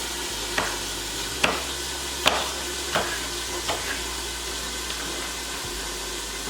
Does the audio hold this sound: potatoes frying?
yes